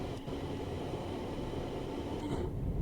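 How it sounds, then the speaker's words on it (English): A Class 350 four-coach electric train from Train Sim World 5 runs steadily on the WCML South line, giving a continuous, even rumble with a brief lighter clatter near the end and no talk. "It's only a little kiddie train."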